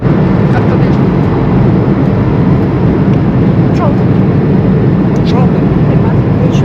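An airliner climbs after takeoff, its loud steady engine roar filling the cabin as a constant broadband rumble, with people talking faintly beneath it.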